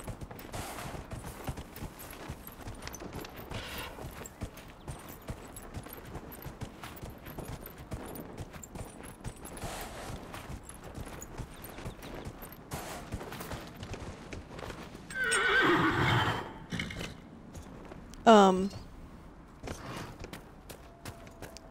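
Hooves clip-clopping steadily from a horse ridden in the video game Dragon Age Inquisition, a continuous rhythmic trot running through the clip with a couple of louder bursts near the end.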